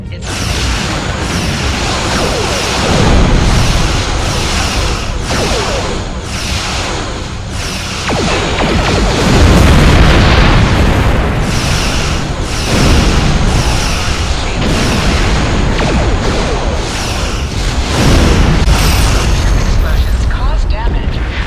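Ships blow up in a Star Trek video game against the Borg, with rumbling booms and crackling bursts recurring across the stretch, heard under a synthesized voice giving warnings.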